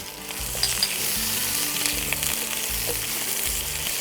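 Fish shukto spices with a pinch of turmeric sizzle and fry in a pan while being stirred, a steady close sizzle broken by rhythmic low scraping strokes throughout, with no talking.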